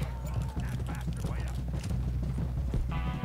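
Galloping horse hooves in the video game Red Dead Redemption II, a steady clopping rhythm mixed with game music and effects, with voices talking over it throughout.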